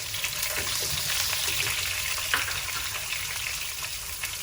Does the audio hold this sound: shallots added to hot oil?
yes